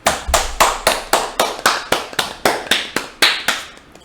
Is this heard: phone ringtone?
no